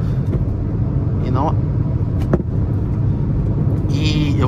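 A 2022 Peugeot 208 Allure with a 1.6 naturally aspirated engine and automatic gearbox accelerates on the road, a steady low engine drone and road rumble heard from inside, with a few brief spoken words over it.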